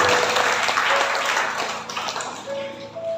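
Applause at a church wedding blessing, a burst of clapping from the guests that fades gradually, with a voice speaking over the tail end.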